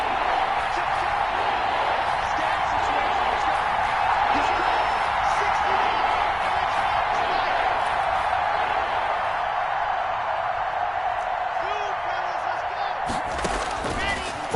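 A football stadium crowd roars steadily ahead of a big third down, a dense sustained wash of cheering with scattered claps and louder bursts toward the end.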